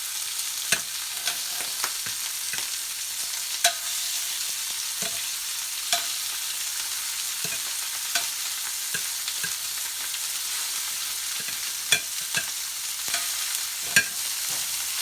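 Lobster pieces sear in a hot pan with a steady close sizzle, punctuated every second or so by light taps and scrapes as the pieces are shifted around.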